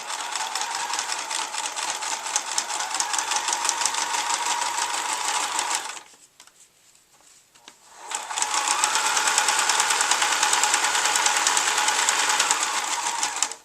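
A sewing machine stitches fabric for cloth pads, running in a loud, steady mechanical whir that stops for about two seconds midway, then starts again and continues.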